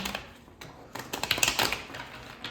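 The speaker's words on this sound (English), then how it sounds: "let's shuffle this one more time" Quick bursts of crisp riffling clicks, a card deck shuffled up close, with a denser flurry in the middle.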